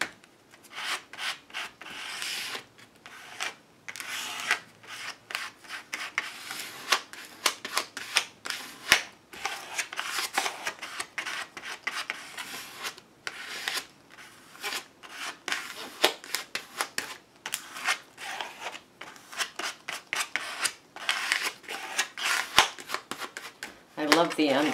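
A gift card drags paint across a book page in steady, scratchy rubbing strokes, close and fairly quiet, repeated in uneven bursts throughout with someone speaking occasionally over them.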